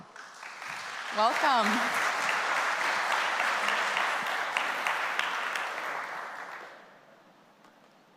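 An audience at the App.js Conf 2022 developer conference applauds in a sustained, dense round of clapping that fades out after several seconds, while a voice briefly speaks near the start.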